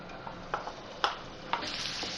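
A small chopped onion frying in four tablespoons of oil in a pan gives a steady, close sizzle, with a few sharp clicks and scrapes of stirring breaking through at irregular moments.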